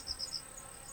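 Giant hornets buzz around a honeybee hive in a brief, faint, steady insect drone with a few slightly louder passes close by.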